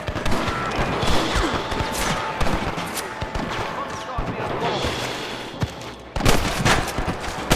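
Dense gunfire in a Red Dead Redemption gunfight, with rapid overlapping shots close and loud, a brief lull, then another sharp burst at the end, with game voices mixed in.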